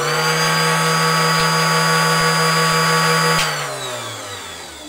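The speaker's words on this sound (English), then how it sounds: "The trimmer itself is not too loud." A case trimmer for reloading .223 brass, hooked to a wet/dry shop vac, runs with a loud steady motorized whine and drone, then winds down near the end with a falling pitch.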